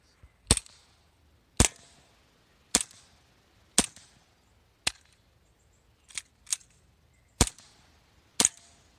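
Green gas airsoft gun fired at a can, about ten sharp, snappy shots spaced roughly one second apart, each a crisp crack with a short decay, loud and close with no talking.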